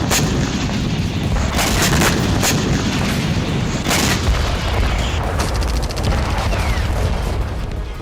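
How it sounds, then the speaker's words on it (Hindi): Ukrainian Neptune cruise missiles strike a Russian S-400 air defence system in a series of loud, heavy booms and sharp cracking blasts over a dense, continuous roar. "यूक्रेन ने रूस के S-400 मिसाइल सिस्टम को उड़ा दिया है"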